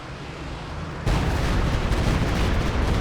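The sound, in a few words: Stuka zu Fuss rocket artillery barrage in Company of Heroes 2 video game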